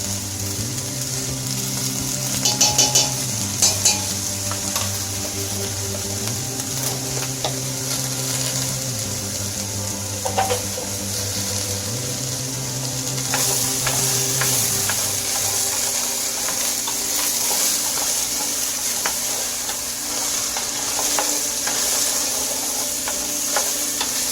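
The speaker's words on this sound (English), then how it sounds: "I'm just going to fry it up for a little bit." Diced carrot, onion, turnip and garlic frying in a pot as the base for turkey soup, a continuous hiss with a few stirring knocks, heard under a low steady hum and no speech.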